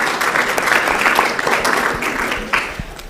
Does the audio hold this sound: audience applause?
yes